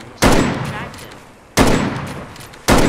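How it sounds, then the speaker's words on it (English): Gunshots fired in a Bigfoot hunting video game ring out three times at roughly one-second intervals, each a loud sharp crack with a long fading tail. "I'm shooting."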